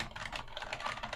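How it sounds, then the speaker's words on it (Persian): Rapid, even keystrokes on a Verity V-KB6121GCW computer keyboard, soft, close clicks in a steady typing rhythm with no voices. "ببینیم مثلا من میخوام تایپ کنم"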